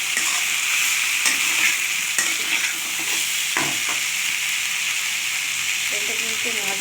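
Ginger stir-fried with cauliflower and potatoes in a hot pan, with a strong steady sizzle overlaid by repeated scraping strokes of a spatula, some sharp clacks, and a few louder scrapes toward the end.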